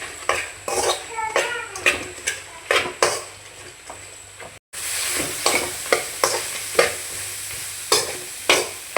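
Food frying in a little oil in a pan while it is stirred with a utensil, steady sizzle under repeated scraping and clinking strokes, close and moderately loud, with a brief dropout midway.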